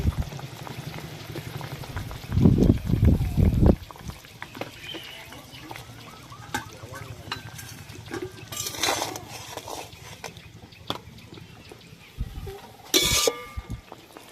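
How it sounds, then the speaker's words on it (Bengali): Pieces of river fish drop into a bubbling mustard paste curry with a brief loud splash and sizzle, followed by steady low simmering and occasional stirring clatter. "ঝোল ফুটে গেছে, এবার মাছগুলো দিয়ে দেবো।"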